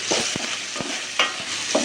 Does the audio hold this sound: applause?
no